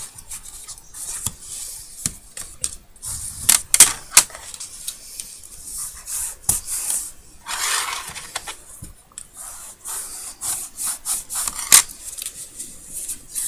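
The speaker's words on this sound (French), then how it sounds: "Je marque tous les plis pareil." Paper is folded and creased by hand to make an ATC pouch, with close, dry rustling, sliding scrapes and quick pressing strokes, and no talking.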